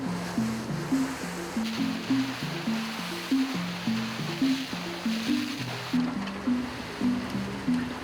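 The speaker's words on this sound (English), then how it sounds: "There, the dirt is washed away using high-power water jets." High-power water jets wash dirt at a topaz mine in Brazil: a constant rushing spray over a loud, rhythmically pulsing machine drone that repeats steadily throughout.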